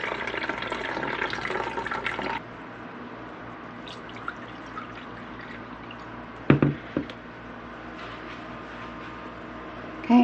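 Watermelon juice strained through cheesecloth trickles and drips into a pitcher, a soft continuous liquid wash at first, then quieter with a few distinct drips and splashes later on.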